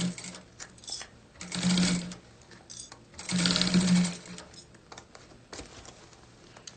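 Sewing machine with a clip-friendly presser foot stitching fabric in two short runs of rapid whirring needle clatter, near and fairly quiet, separated by pauses; someone talks softly at times.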